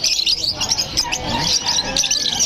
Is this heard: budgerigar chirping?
yes